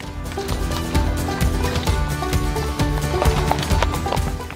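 A horse walks a trail in the Ariège, its hooves clip-clopping in a steady rhythm, close and fairly loud, with no talking over it.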